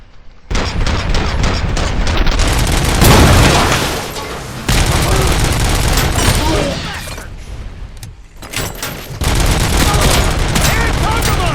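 Turret gunfire erupts in the Robocop video game, loud bursts of rapid automatic shots and booms in several long volleys separated by brief pauses.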